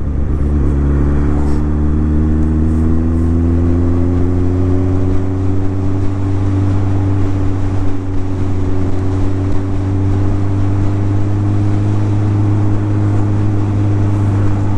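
A modified-clutch Suzuki GSF1200 motorcycle engine drones loudly and steadily, its pitch climbing gradually as it accelerates, then holding a smooth, sustained tone.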